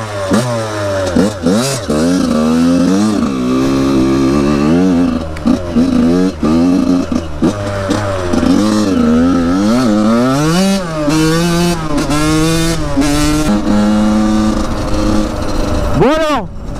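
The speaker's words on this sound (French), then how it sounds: "Allez hop, on grimpe sur la moto, je vais vous expliquer un peu ce qui va se passer en roulant." A motorcycle being ridden, its engine revving up and down in repeated rising and falling sweeps with gear changes, loud and close throughout, ending with a sharp rev before a brief drop.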